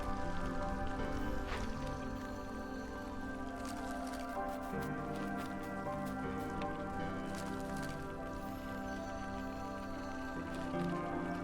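Light drizzle falling in the Against the Storm city-building game, a soft steady patter with scattered tapping drops layered over a continuous tonal music bed.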